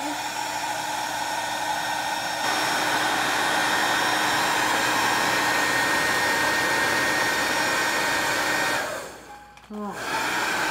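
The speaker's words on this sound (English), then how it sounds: "It is seriously the only hair dryer we have in the house" A hair dryer blows steadily and loudly, shifting tone once, then cuts off near the end with a brief click.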